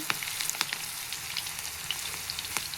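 Okra (lady's finger) frying in a little oil in a pan at home, a soft continuous sizzle with scattered crackles and pops, close and alone without talk.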